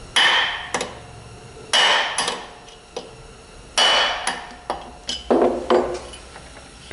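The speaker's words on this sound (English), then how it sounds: "strike the head of this bolt with the brass hammer here" Brass hammer striking the head of a bolt to knock the flywheel off its crankshaft taper on a 1953 Onan generator; about eight sharp metallic blows at uneven intervals, close and loud, each ringing briefly, with no talk.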